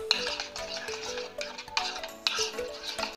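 A spoon stirring yogurt and oil marinade for butter chicken in a bowl, producing repeated soft scraping and clinking strokes in a steady rhythm, close and fairly quiet.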